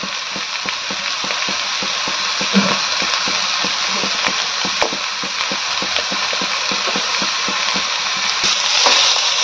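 A grandmother stirs a chicken pakora mixture with a metal spatula in a sizzling pan, the strokes tapping and scraping in a quick regular rhythm over continuous frying hiss, close and fairly loud, with no speech.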